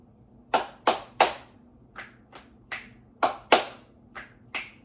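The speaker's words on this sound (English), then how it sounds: "I'm bringing my clap snaps back." Sharp hand claps and finger snaps ring out in an irregular rhythm, about ten crisp hits close by with quiet gaps between.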